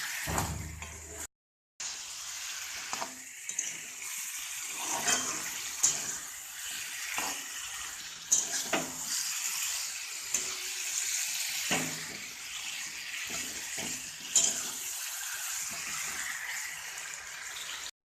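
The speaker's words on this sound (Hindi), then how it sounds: "इसमें मछली का हेड डाल देंगे, डाल के अच्छे से मिला लेंगे।" Fish head frying in a pan and being stirred into roasted masala, a steady, moderately quiet sizzling hiss broken by soft scraping stirs and one brief silent gap.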